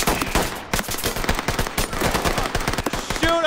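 Rapid automatic gunfire in the tactical shooter Ready or Not, dense bursts of loud shots cracking in quick succession throughout, with no talk over it.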